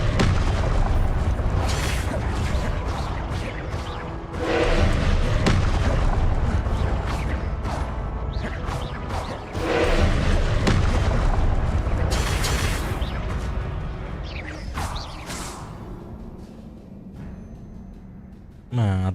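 Confringo spells exploding in Hogwarts Legacy, a video game: repeated deep booms and rumbling blasts over dense, loud combat noise, easing off near the end before one final burst, with a player's voice shouting over the action.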